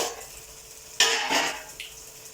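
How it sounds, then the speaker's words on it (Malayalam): A lid lifts off a pot of chicken curry masala with a sharp metallic clank, then a spoon scrapes and stirs the thick masala in a few short, close strokes. "അപ്പം നമുക്ക് അടപ്പെടുത്തിട്ടൊന്ന് ഇളക്കി കൊടുക്കാം"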